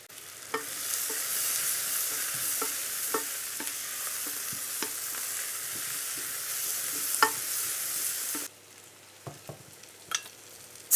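Hot sauce ingredients, including chopped prunes and habaneros, frying and being stirred in a pan: a steady close sizzle with periodic scraping strokes, then the hiss drops sharply while a few clinks and scrapes continue.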